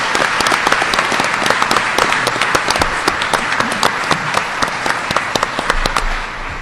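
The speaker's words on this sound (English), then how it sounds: "Let's give him a round of applause, President Stanger." A crowd at a New York Rising community reconstruction meeting applauds for a college president. The clapping is steady and fairly loud, with sharp individual claps standing out throughout.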